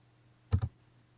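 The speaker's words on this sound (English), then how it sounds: "the only command I am typing here is Maven archetype :generate. Now when I type enter" Two quick key clicks sound on a computer keyboard while a command is typed, brief and close against a quiet, humming room.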